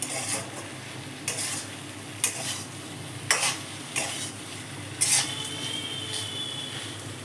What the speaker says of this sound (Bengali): এভাবেই আমি আরেকটু ভাজা করে নামিয়ে নেব।